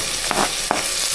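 Cut tomato pieces drop into a hot, sizzling pan for mutton curry: a continuous frying hiss with two quick splashy bursts as they land, close and alone without speech.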